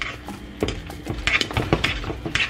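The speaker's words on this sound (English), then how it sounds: "We are going to season our mashed potatoes with some garlic, black pepper, and salt. Give that a good mix." Seasoned mashed potatoes with garlic, black pepper and salt being mixed in a bowl for shepherd's pie, with repeated close clinks and scrapes of a utensil against the dish, uneven in rhythm.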